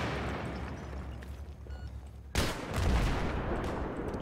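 A grenade explosion in Battlefield 3 erupts as a sharp, loud broadband blast midway through, followed by rumbling debris and scattered gunfire in a noisy game battle.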